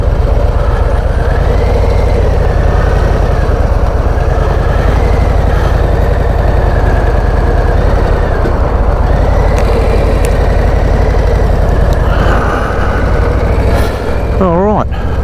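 A Harley-Davidson Low Rider ST with its stock exhaust rumbles loudly up close, a deep pulsing engine note that rises and falls as the bike is revved and pulls away, steady and dominant throughout.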